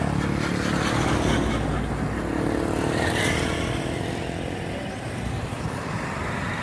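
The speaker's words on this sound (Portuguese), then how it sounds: "Quanto carro e quanta moto." Street traffic in Itamaraju, Bahia, as floodwaters recede: a steady, close roar of passing cars and motorcycles with engines revving and swelling, continuous and fairly loud with no talk.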